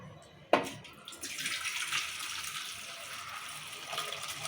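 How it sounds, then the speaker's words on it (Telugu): Cooking water is poured off boiled peas, a sudden splash followed by a steady, soft rushing pour that fades gradually, with no talking. "బఠానీలు చల్లగా అయిపోయినాయి నీళ్ళు వంపుకుందాం నీళ్ళు వంపేస్తుంది అంట"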